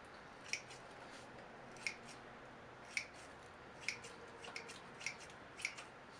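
Scissors trim the roots of a bonsai tree. About six quiet, crisp snips come at a steady pace roughly a second apart, with no voices.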